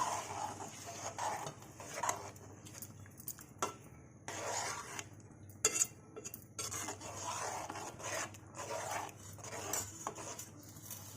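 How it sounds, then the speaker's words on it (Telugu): Steady scraping and rubbing of a spoon stirring colocasia (arbi) masala curry in a pan, continuous with occasional louder scrapes, close and fairly quiet. "అంతా కలిసేలాగా బాగా కలపాలి."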